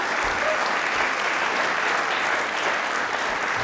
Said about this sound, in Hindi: हमारे तालियां जोरदार हो जाए